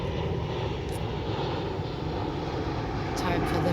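A plane flies by overhead, a steady broad engine rumble holding for several seconds beneath a person speaking, moderately loud and unbroken throughout.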